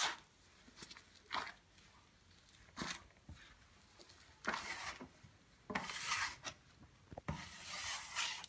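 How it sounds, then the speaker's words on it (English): A dough scraper scrapes and rubs across a floury work surface while spelt bread is made, giving short, quiet rasping strokes in irregular bursts with pauses between. "The scraper also helps you to work on a clean surface and it's not flour everywhere."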